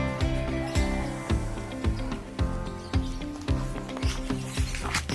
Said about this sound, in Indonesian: Ini lagi serut, ini saya buat cantik